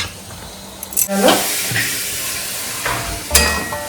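Tempering poured into a coconut chicken stew, with bursts of sizzle at the moment of adding and again near the end, then stirring sounds under a faint steady background.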